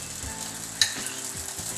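A paratha brushed with oil fries on a hot pan with a steady hiss, broken by a single sharp clack as it is flipped partway through. No one speaks.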